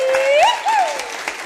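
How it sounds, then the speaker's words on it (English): A live audience applauds at a radio show broadcast, a moderate patter of clapping under a sustained sung or whistled tone that rises and falls before fading. "So give him another big round of applause."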